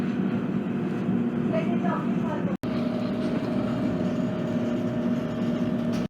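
Inside a French TGV high-speed train, a steady low rumble and rolling hum carry on throughout, with a faint brief tonal whine and a sudden momentary dropout partway through.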